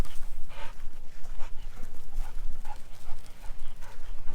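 A livestock guardian dog on a farm gives a string of short, rough barks at a steady pace, fairly close, with faint background noise.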